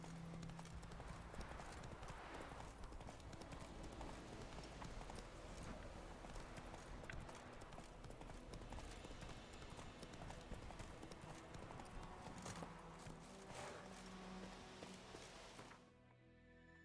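Roach, the horse in the video game The Witcher 3, clip-clops along in a steady, even rhythm of hoofbeats, quiet and continuous over soft ambient game sound.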